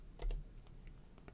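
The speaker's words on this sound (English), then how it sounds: "Okay, so I'm going to hit F6" Someone presses the F6 key on a computer keyboard, a faint pair of quick clicks followed by a few softer taps in a quiet room.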